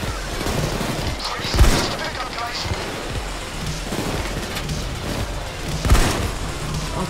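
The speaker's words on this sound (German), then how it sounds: "Meine Sentry schießt nach oben" A sentry gun in the heist game PayDay 2 fires steady bursts upward amid dense game action, with two heavy booming impacts cutting through the rattling gunfire.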